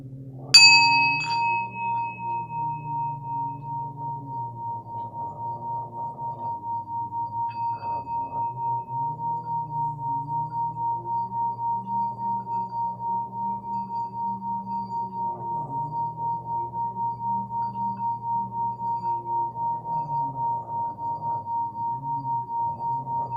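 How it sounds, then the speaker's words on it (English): A Tibetan metal singing bowl gives a sustained, pure ringing tone that hums steadily with a slow wavering pulse, following a brief bright strike at the start. "This is my new Tibetan spinning bowl that I got from wish.com."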